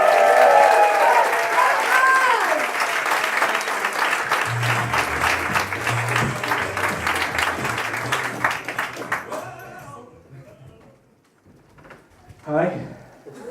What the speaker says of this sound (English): You guys are going to start the clapping and the cheering